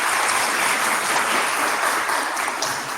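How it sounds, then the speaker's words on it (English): An audience claps warmly for a lecturer in a lecture hall, a short burst of steady, close applause with no talking. "Please join me in a warm round of applause."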